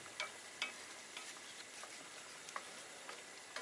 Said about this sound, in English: Stir this into a nice little sauce.